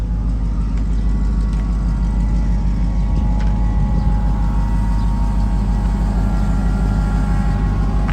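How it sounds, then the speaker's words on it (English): A 2006 GMC forestry bucket truck sits running at idle nearby, a loud, steady low diesel-like rumble with a faint whine layered on top, unchanging throughout. "Here's a nice truck sitting here running nice here."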